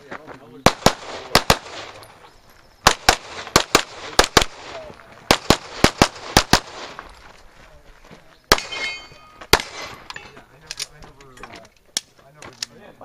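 Gunfire rings out on a USPSA shooting stage, with sharp shots in quick pairs and short strings, some ringing clangs from steel targets, and people talking nearby between the strings.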